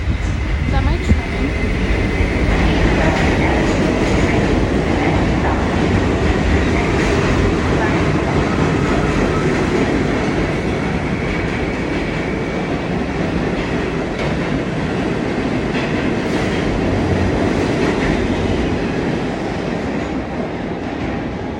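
A New York subway train pulls into the station with a steady loud roar of wheels and rumbling cars, sustained throughout with faint rattles, heard from the platform.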